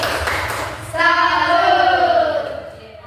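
Schoolchildren in a classroom chant together in loud unison, their voices rising into a sustained sung call that fades at the end, with a few thumps early on.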